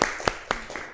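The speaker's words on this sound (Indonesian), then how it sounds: "beri tepuk tangan untuk Mbak Sinta" A few separate, sharp hand claps in a small classroom microteaching session, spaced unevenly and fairly close, with no talk over them.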